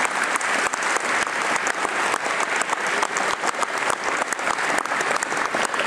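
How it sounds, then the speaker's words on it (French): Dense, sustained applause from a large crowd at a political campus gathering in Le Touquet-Paris-Plage, loud and steady throughout with many overlapping claps and no voices standing out. "je crois qu'on peut les applaudir extrêmement fort"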